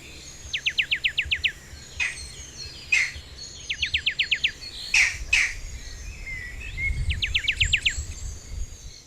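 Birds call outdoors at a game reserve. Rapid trilled bursts of chirps repeat every few seconds over sharp single calls and a steady insect hum, moderately near, with a low rumble in the background.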